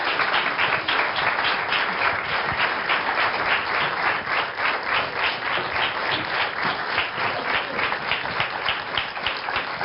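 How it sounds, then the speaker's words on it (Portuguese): Studio audience on a Portuguese daytime talk show gives Raquel a steady round of applause, loud and continuous for about ten seconds with no talking. "Um aplauso para a Raquel."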